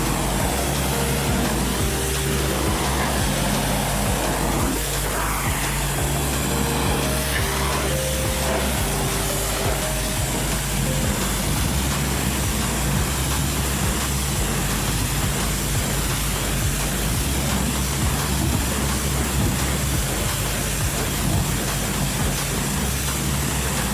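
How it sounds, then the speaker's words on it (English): A water spray rinses a Volkswagen Transporter van wheel and wheel arch, a loud, steady hiss of jetted water running unbroken and close up throughout. "So let's get that rinsed."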